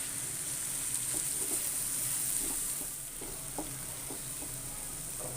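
A spoon stirs boiled mash daal with ginger through a sizzling pan, giving a quiet, steady frying hiss with soft, evenly spaced scraping strokes.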